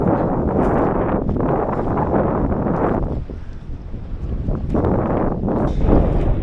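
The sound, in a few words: strong wind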